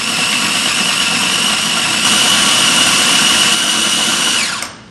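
An electric grinder blends sambal into a coarse, chunky paste, giving a loud, steady motorized whir that holds for several seconds and then winds down abruptly, with no speech over it.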